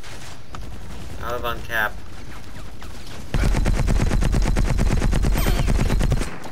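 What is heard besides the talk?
gunfire in the video game Battlefield Heroes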